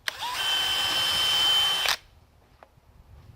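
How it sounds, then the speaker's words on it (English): A power drill whirs loudly for about two seconds while drilling out screws in wood, then cuts off, followed by a faint click in near silence. "I'm going to actually drill these out just so they don't split the wood by chance"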